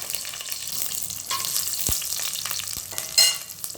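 Green chillies frying in hot oil with cinnamon and cardamom, a moderate steady sizzle broken by a few sharp pops and light clinks, with no one talking.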